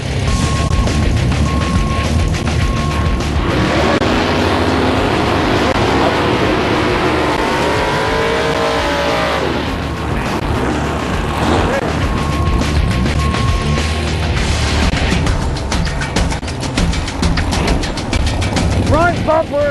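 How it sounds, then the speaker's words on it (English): Two grudge-racing drag cars launch together in a heads-up arm-drop race: loud, roaring engines rev and scream continuously at close range, with a commentator talking over the din throughout. "It's a classic heads up arm drop race."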